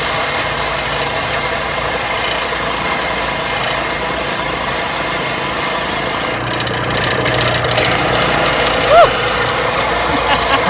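Belt sander working on a fallen tree branch from a forest floor, a loud continuous motor whine with grinding friction that holds steady throughout, briefly shifting in tone near the end.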